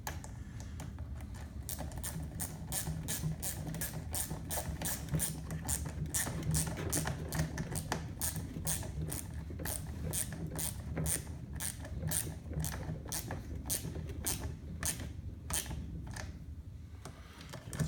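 Quick ratcheting clicks from a wrench tightening the top nuts on a rear bulkhead brace of a Losi 5ive-T RC car, a steady close run of sharp clicks over a low hum with no talking.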